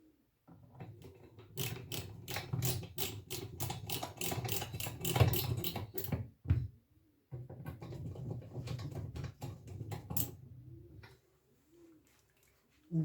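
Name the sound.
screws being put into Pioneer SX-1250 receiver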